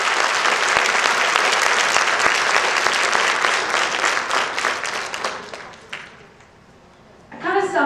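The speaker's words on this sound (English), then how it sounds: "Let's give Nicole a big round of applause." An audience applauds Nicole in a loud, dense burst of clapping that holds steady for several seconds, then thins and fades, and a brief voice comes in at the very end.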